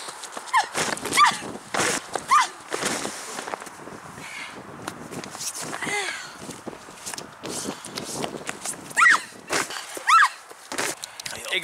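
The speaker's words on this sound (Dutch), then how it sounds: "We hebben zelfs twee paarden hier zo." Two horses on a film set clip-clop and snort nearby, with irregular hoof thuds and a couple of short whinny-like calls across the stretch, loud and close.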